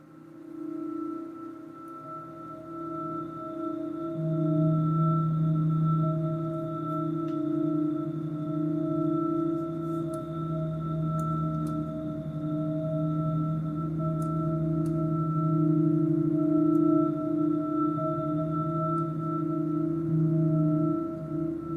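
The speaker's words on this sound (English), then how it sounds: "This is the sound of the rings of Uranus." A steady, droning electronic hum representing the rings of Uranus, layered sustained tones with a slowly shifting, shimmering texture, continuous throughout and without any voices.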